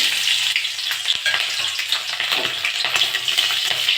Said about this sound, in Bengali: তেলটা গরম হয়ে গেছে, আমি একটু পাঁচফোড়ন দিয়ে দেবো